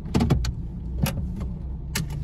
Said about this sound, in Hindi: ये हो गई गाड़ी बंद